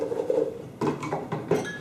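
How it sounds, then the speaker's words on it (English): Chopped Golden Delicious apple pieces tumble into a blender, producing a cluster of hollow clunks and rattling knocks against the container, close and fairly loud over a low background rumble. "I'm just going to pour these Golden Delicious apple pieces, chopped the same size, right into the blender"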